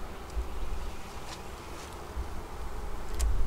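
Honey bees buzz steadily in an open Flow Hive being fitted with supers, a low continuous drone with a few louder passes near the end, no talking.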